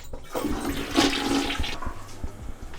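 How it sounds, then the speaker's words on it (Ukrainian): A North American household toilet in a Canadian home flushes loudly and close by, a rushing, swirling surge of water that builds quickly and then drains away, alone without talk. "ви завжди знаєте, що ви знаходитесь в Північній Америці, якщо унітаз змивається ось так"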